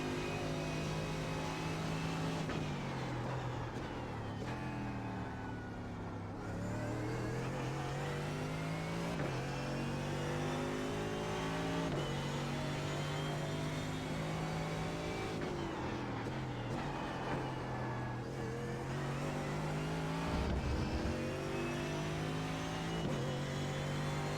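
Race car engine in the sim racing game iRacing drones steadily throughout, its pitch climbing and dropping with gear changes and revs as the car works through corners, loud and continuous with no talk.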